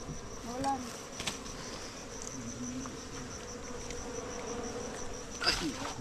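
Honey bee swarm buzzing at a wild honey harvest, a dense steady drone with individual bees whining close past now and then.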